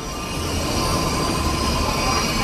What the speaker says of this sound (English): And we're getting on the train.